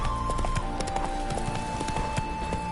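Roach, a horse in The Witcher 3 video game, walks with a steady rhythmic clip-clop of hooves over a constant game ambience and a faint tonal hum.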